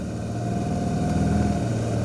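A Suzuki Burgman 200 scooter, off its center stand on the ground, runs with a steady engine drone that rises slightly as it revs, loud and close, with no talk.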